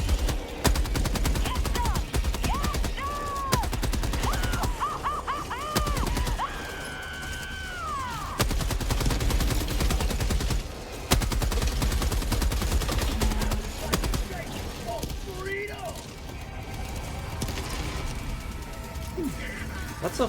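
Rapid gunfire and explosive blasts from the video game Helldivers 2, dense and loud throughout a chaotic firefight, with whines and crashes mixed in and a voice talking over parts of it.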